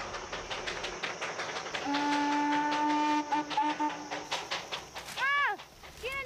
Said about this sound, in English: the sounds of the train they brought echo up from the valleys